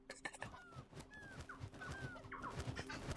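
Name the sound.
birds squawking in the video game Earth Must Die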